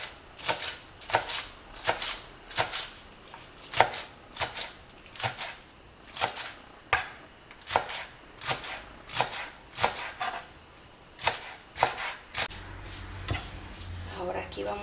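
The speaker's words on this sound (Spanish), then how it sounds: "A cortar los rabos de los cebollines" A knife chops green onion tops into rounds on a board, a close series of crisp, sharp knocks in a fairly steady rhythm, with faint background sound after the last cuts.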